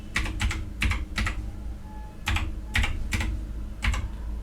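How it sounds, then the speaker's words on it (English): Quick bursts of keystrokes on a computer keyboard, with short clustered taps, a brief pause, then a second run of keys, close and moderately quiet, with no talk. "there type gpedit.msc"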